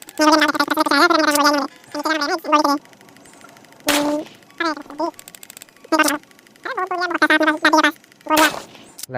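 Gunfire from a gun in a video game, a few sharp, loud shots spaced apart and mixed in with a person talking throughout.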